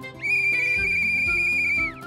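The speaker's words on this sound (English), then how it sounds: "The whistle again." A steady, high whistle blows for about a second and a half in a kids' cartoon about helper cars and street vehicles, with soft thumping sounds underneath and no talking.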